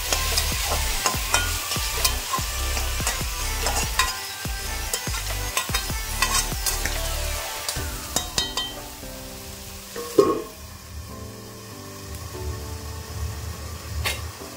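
Food fries in a wok with a steady sizzle under repeated stirring strokes and scrapes of a spatula, close and busy, then eases into a quieter hiss toward the end.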